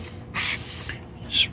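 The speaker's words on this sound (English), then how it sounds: "spray it on the wheel. It's coming out in a nice foam." Mr. Foamy wheel cleaner is sprayed onto a car wheel in a few short hissing bursts from a trigger nozzle, fairly close and quiet, with brief pauses between sprays.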